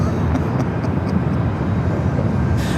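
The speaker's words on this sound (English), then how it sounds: "Shorty says it's a 747 and flies above me." Lufthansa Boeing 747 passing overhead at LAX, a loud, broad roaring rumble held steady throughout, with faint voices in the background.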